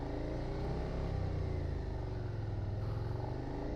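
A 2021 Suzuki SV 650 engine runs steadily during a slow-speed gymkhana drill, a continuous close motor drone with a slight rise in pitch as it accelerates to around 30.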